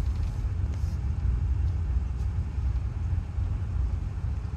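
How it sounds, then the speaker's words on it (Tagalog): Low, steady rumble of vehicles passing near a campground at Gulf State Park, Alabama, continuous and moderately loud with some wind buffeting the microphone. "marami din pong mga sasakyan, iba't ibang klase ng sasakyan"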